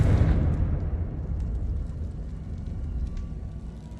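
A Confringo blasting spell erupts in Hogwarts Legacy, a loud fiery burst at the start that trails off into a long rumbling roar, with no talking over it.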